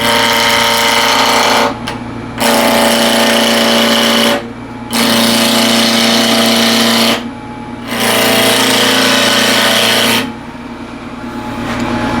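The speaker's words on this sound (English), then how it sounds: "Lathe is running at 1700 RPM." A wood lathe spins at 1700 RPM while a ball gouge cuts into yew, giving a loud, continuous hissing scrape in several long passes of two to three seconds, with brief quieter gaps between cuts.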